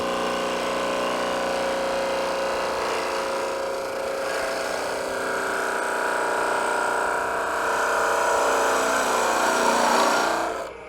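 Wood lathe hollowing the inside of a bird's mouth bowl, a steady whirring spin with a rough gouge scrape that grows slightly louder and busier near the end before cutting off abruptly.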